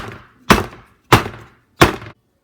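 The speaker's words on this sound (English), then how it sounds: "we're going to shake it and bang it to get the air bubbles out" Three heavy thuds at a steady pace as a metal cake pan filled with pound cake batter is banged down on a counter, each knock sharp and close with a brief ring.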